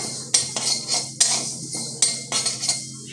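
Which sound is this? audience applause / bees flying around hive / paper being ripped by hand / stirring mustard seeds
stirring mustard seeds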